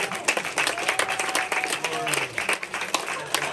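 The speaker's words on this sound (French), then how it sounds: "on peut l'applaudir." An audience at the opening of a photo exhibition in Villeneuve-Loubet claps in a moderately loud, uneven burst of many hands, with faint crowd murmur mixed into the applause.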